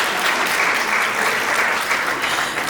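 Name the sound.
audience applause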